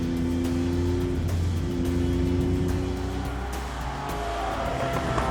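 A Jaguar XJ220 on Bridgestone tyres is driven hard on track, its front pushed into understeer. The engine drones at a steady pitch, then rises as it revs, with a sharp higher whine near the end.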